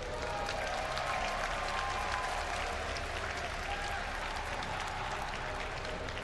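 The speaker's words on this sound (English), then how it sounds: "give a cheer for Nerchio." Crowd applauding and cheering at an IEM GamesCom StarCraft esports semifinal, a steady, distant wash of clapping that holds evenly throughout.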